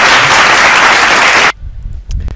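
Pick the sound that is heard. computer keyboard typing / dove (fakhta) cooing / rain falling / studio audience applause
studio audience applause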